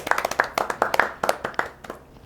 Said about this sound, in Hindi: इसलिए तालियां तो बनती हैं